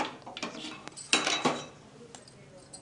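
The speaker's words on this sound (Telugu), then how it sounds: "ఓకే, పల్లీలు వేయించుకుందాము." Peanuts being dry-roasted and stirred in a pan for a brinjal roti pachadi, giving scattered scraping clinks and rattles with a denser burst midway, moderately close.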